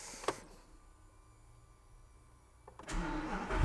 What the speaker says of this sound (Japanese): ちょっとエンジンをかけてみたいと思います。